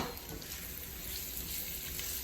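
Three chopped boiled potatoes frying in cooked masala for aloo sukhi sabji, giving a steady, close, low sizzle that holds evenly throughout with no talk.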